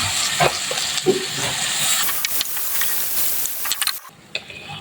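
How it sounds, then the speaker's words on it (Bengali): Shrimp sizzle in a hot pan as boiled mixed vegetables are tipped in, giving a steady bright hiss broken by a few scraping stirs and soft clicks near the end. "আমার চিংড়িগুলো একটু ভাজা হয়ে গিয়েছে এখন আমি সেখানে সেদ্ধ করে রাখা সবজিগুলো দিয়ে দিচ্ছি"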